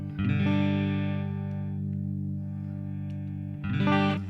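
A PRS Silver Sky electric guitar on its middle pickup plays a chord that rings out clean and sustained, slowly decaying, then is strummed again near the end; close and moderately loud.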